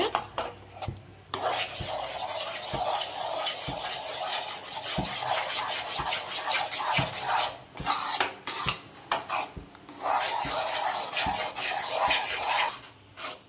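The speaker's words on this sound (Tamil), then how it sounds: "கைவிடாமல் நல்லா மிக்ஸ் பண்ணிகிட்டே இருங்க." Biscuit halwa batter being stirred nonstop in a pan with ghee, a steady scraping and rubbing of a utensil against the pan with regular knocks and taps, close and fairly quiet, with no talking.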